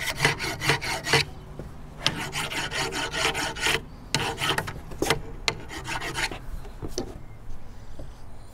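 A metal file rasps across a soldering iron tip to cut grooves, with quick, close strokes repeating in rhythmic bursts and short pauses between them.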